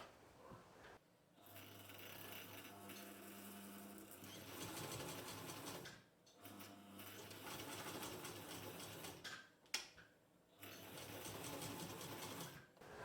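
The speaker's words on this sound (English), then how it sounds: "I used the same triple sewing technique for the ends of the straps." A sewing machine stitches the ends of apron straps in steady whirring runs, stopping briefly between passes and then resuming.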